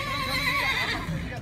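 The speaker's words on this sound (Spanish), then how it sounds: "Vamos a ver cómo monta el caballo el compa Pomeño por acá." A horse whinnies loudly and close at a ranch in Culiacán, Sinaloa, one drawn-out descending neigh filling the moment.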